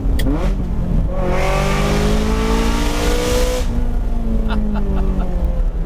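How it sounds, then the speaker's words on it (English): A Ferrari twin-turbo V8 with a straight-pipe exhaust revving hard, the loud engine note climbing and sweeping through a sustained rev before dropping back to a rumbling idle, close up. "Shame that the modern Ferraris with the twin turbo V8, even if you straight pipe it, they cannot sound as good as a good old natural aspirated engine."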